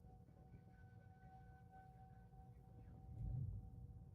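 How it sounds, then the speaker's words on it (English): Outdoor tornado warning sirens sounding in Ohio, a faint, distant wailing tone heard over a low rumbling background. "There go the sirens again."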